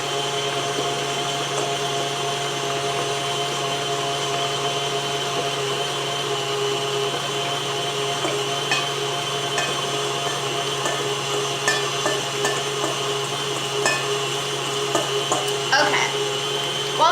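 An electric mixer runs steadily as it beats cookie bar batter, a constant motor whine with a low hum, close and alone with no talking for about seventeen seconds.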